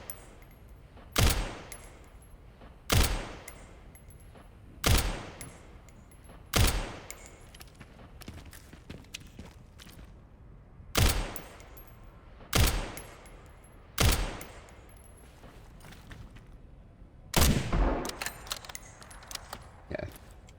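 Bursts of gunfire in the Resident Evil video game, about ten loud, sharp volleys spaced a second or two apart, each a short rapid cluster of shots with quieter game ambience between them.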